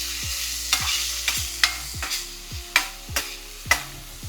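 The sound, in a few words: vegetables being sautéed and stirred in a pan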